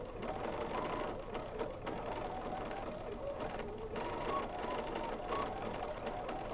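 A BERNINA sewing machine runs in fast, continuous bursts while free-motion stitching pebble shapes into quilted fabric, its rapid needle clatter close and steady with small shifts in pace.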